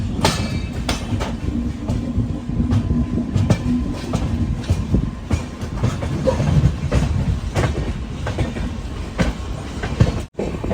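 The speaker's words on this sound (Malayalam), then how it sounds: "ലോക്കൽ ട്രെയിൻ ആണെന്ന് തോന്നുന്നു" A local suburban train rumbles past nearby at night with rhythmic clickety-clack of wheels over rail joints, a steady loud roar throughout, with no voices.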